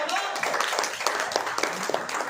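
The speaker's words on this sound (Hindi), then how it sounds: "आपकी तालियों में जान होनी चाहिए।" Audience clapping at a news channel launch event in Punjab, a moderate wash of hands with scattered sharper claps and a background murmur of voices, fairly steady and mid-distance.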